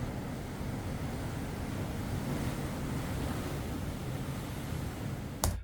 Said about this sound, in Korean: 파도 소리가 나오고 있어요.